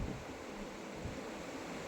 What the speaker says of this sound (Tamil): இந்த மிஸ்ட் ப்ளோயர் வந்து ஒரு அற்புதமாக ஒரு இதமான சூழ்நிலையை கொடுக்குது